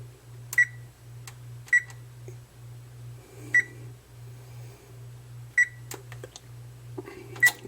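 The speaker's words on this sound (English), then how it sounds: "we're going to put the timer on when you get them in the oven" A kitchen oven's timer being set for baking hamburgers gives a series of short, sharp electronic beeps spaced irregularly, close and clear over a steady low appliance hum.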